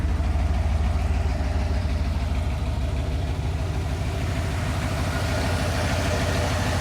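A stock 302 V8 in a 1984 Ford F250 truck idles smoothly and steadily at close range, a deep continuous rumble with an even, low throb and no voices.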